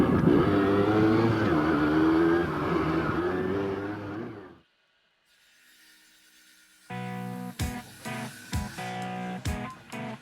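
A motorcycle club rides its bikes slowly past at about ten miles an hour. A steady, loud engine rumble lasts roughly four seconds, then cuts off abruptly and gives way to quieter, sharp clicking sounds.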